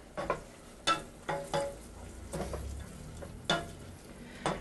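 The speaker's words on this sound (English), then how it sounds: "the way you cook risotto is you keep cooking, stirring" Risotto with diced butternut squash is stirred in a pan, giving a few spaced scrapes and knocks of a spoon over a faint, low simmering sizzle, close and without talk.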